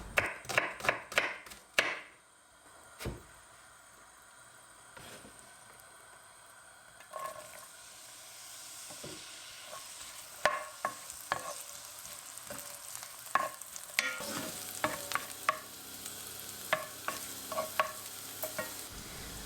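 Diced onions sautéing in olive oil and butter make a low sizzle between sharp knife chops early on and later a run of spoon scrapes and stirs, fairly faint and close.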